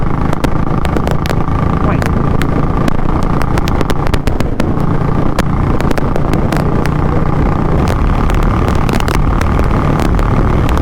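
A Royal Enfield Electra 350 motorcycle engine runs under open throttle, a loud, steady drone with constant wind roar and no break across the whole stretch.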